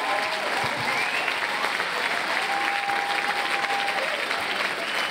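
An audience claps and cheers at a salsa festival in Warsaw, dense continuous applause from a crowd filling the whole stretch at steady loudness, with a faint voice over it.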